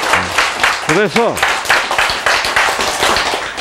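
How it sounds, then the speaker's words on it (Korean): Audience clapping in rhythmic, repeated bursts rises and falls through a short stretch, mixed with a speaker's voice and brief sung or drawn-out vocal tones near the start. "박수!"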